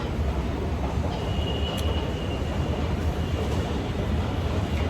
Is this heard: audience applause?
no